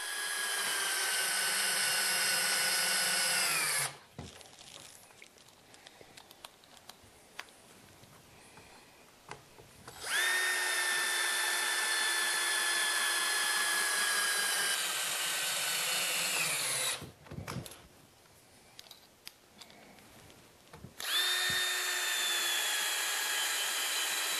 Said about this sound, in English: I'm gonna put some 3-inch screws in them here